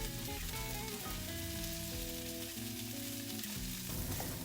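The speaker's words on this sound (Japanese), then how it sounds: "ウインナーが焼けるまで炒めます" Potatoes and sausages stir-fry in a frying pan, giving a dense, steady sizzle throughout with soft stirring sounds and a faint tonal background melody underneath.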